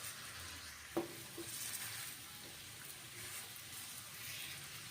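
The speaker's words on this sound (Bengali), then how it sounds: "সাদা তেল দিয়ে পরোটাগুলো আমি ভেজে নিচ্ছি" A paratha fries in white oil, a quiet, even sizzle heard at low level, broken by a couple of soft clinks of a utensil early on.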